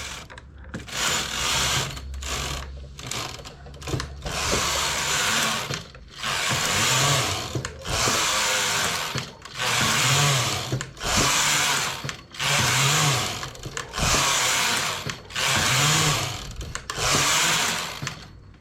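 A knitting machine carriage runs back and forth across rows of yarn for sideways-knitted baby trousers, making loud whirring, rattling passes that repeat every two to three seconds with short pauses between them.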